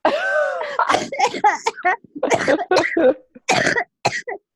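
A person coughs in a series of harsh, rough bursts, some breaking into short laugh-like sounds, close to the listener.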